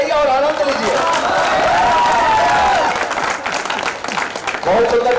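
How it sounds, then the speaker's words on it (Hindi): A stage audience at a university cultural programme claps together in a dense, steady wash of applause that fills the whole stretch, with a voice and harmonic tones running through it and a brief dip near the end. "एक बार ताली बजाइए और आनंद लीजिए"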